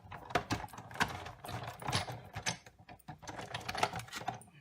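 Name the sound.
die-cutting machine cranked by hand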